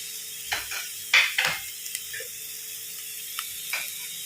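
Ivy gourd (dondakaya) being fried in oil in a pan, heard as faint sizzling with a few sharp clinks and scrapes of a utensil stirring against the pan, with no talk.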